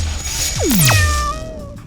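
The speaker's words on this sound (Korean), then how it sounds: "냐옹 냐옹 냐옹" A cat meows loudly with a long, sliding, whiny cry, close up and alone, with steady background noise.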